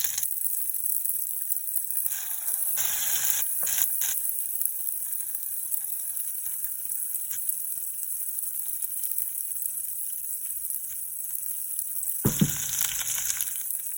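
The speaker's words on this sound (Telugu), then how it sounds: "కొంచెం సేపు మసాలా ఆయిల్లో వేయించుకుందాం" Ground peanut masala paste frying in hot oil with curry leaves for a drumstick curry, a steady close sizzle throughout with brief louder bursts as the paste is moved, no talking.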